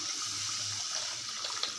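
Tamarind water poured into a pan of oil and sautéed spice powder, a steady close liquid splashing and trickling that runs evenly throughout at a moderate level, with no voices.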